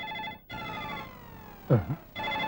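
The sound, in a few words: phone ringing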